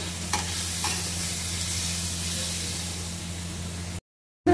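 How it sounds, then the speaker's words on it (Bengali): Spice paste with chili, turmeric and coriander powder sizzles and fries loudly in a pan, a constant hissing crackle with occasional stirring scrapes, then cuts off abruptly before resuming. "এবারে এর মধ্যে দিয়ে দেবো বাটা মশলাটা। বেশ করে এগুলো কষে নেব।"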